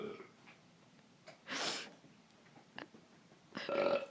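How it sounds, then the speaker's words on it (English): A baby gives soft little burps and breathy snorts, close and fairly quiet, two stronger bursts separated by hushed breathing in a calm room. "Oh, you burped."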